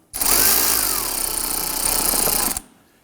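Power tool driving and tightening screws on the cooling fan assembly of a 2008-2011 Ford Focus, one loud, close, continuous buzzing whir lasting about two and a half seconds before cutting off.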